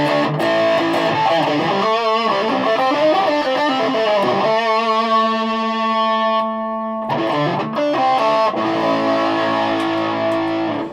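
Electric guitar played through a TC Electronic Spark pedal set to distortion, loud and sustained chords and ringing notes with a gritty overdriven tone, some held long and decaying before new strums.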